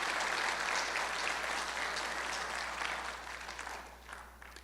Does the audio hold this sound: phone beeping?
no